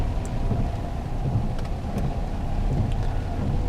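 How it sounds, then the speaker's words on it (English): Rain patters steadily against a car windshield, a continuous wash of small taps over a low rumble, with occasional sharper drops standing out. "hopefully the camera and mic doesn't pick up the raindrops on the windshield here too much."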